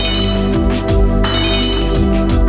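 A loud mobile phone ringtone plays alone, a repeating electronic melody of bright tonal notes signalling maintenance staff to a circuit breaker fault.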